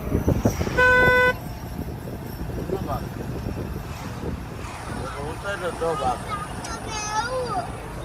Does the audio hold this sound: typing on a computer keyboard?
no